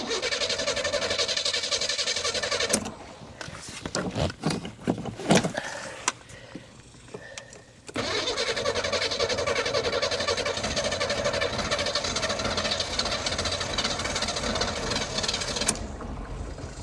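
A 1984 Chevy Citation engine, primed with fuel poured into it, cranks in short uneven bursts, falls quiet briefly, then catches and settles into a steady loud idle that runs on without talk.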